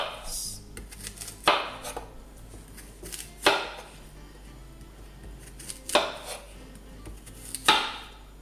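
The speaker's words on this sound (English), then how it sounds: "Next, cut the banana into small pieces and put them in the blender." A knife chopping green banana into small pieces on a board, four sharp distinct knocks spaced a couple of seconds apart over a quiet kitchen background.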